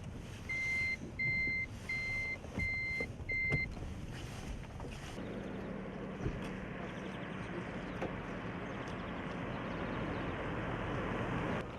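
Vehicle reversing alarm beeping in a steady repeated pattern for several seconds behind the listener, set against rumbling outdoor engine and traffic noise that continues after the beeps stop.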